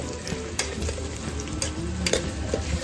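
Chopped onions fry and sizzle steadily in a pan while a spoon stirs them, with a few soft scrapes and knocks against the metal and no talking.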